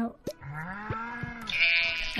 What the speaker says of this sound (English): I think that's a baby sheep.